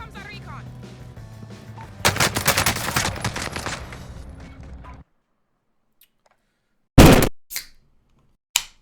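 Rapid automatic fire from an AS-44 rifle in the video game Warzone Pacific, a dense, loud burst lasting about three seconds, followed after a pause by a couple of sharp single shots.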